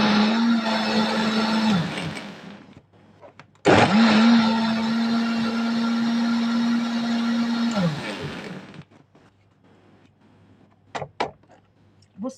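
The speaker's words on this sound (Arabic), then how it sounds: "يمشي في الخلاط." A kitchen blender runs loud on a batch of chard greens with a splash of water, whirring steadily for about three seconds, pausing briefly, then grinding on for another four seconds before winding down, followed by a few faint clicks.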